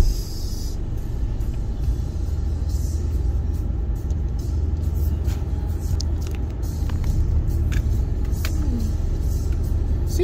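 Car pulling away and driving on after a passenger is dropped off, with a steady close engine and road rumble throughout and a few faint clicks and knocks from inside the cabin.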